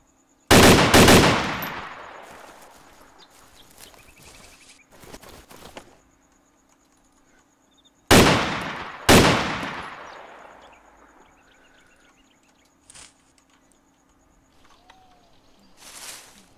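Gunfire in the DayZ video game: two loud bursts of close shots about eight seconds apart, each followed by quieter echoing reports and a few scattered distant cracks.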